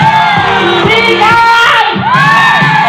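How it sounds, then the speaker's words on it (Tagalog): A lively Filipino crowd at a festive event cheers and shouts loudly, with children's high-pitched yells and whoops rising and falling over a dense wall of voices, close and continuous throughout. "Bigyan namin kayo ng masigabong palakpakan! Sigawan! Palakpakan!"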